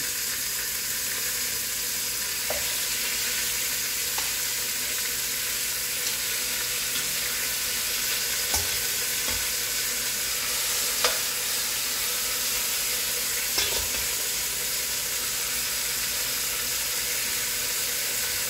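Big, meaty oxtail pieces sear in a hot pan, giving a steady, close sizzle that fills the whole stretch, with a few faint clinks of a utensil now and then.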